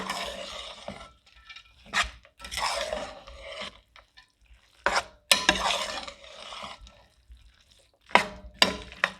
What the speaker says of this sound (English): And we're gonna add our walnuts. Now again, we'll give it a good stir.